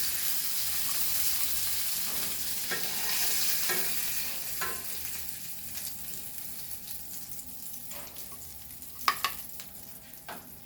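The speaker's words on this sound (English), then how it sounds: "And we will fry like this only the other pomfrets." Stuffed silver pomfret fries in a pan, a steady broad sizzle that fades somewhat over time, with scattered utensil scrapes and a few sharp clinks near the end.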